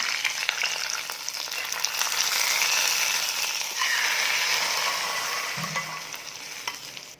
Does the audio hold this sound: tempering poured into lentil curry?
yes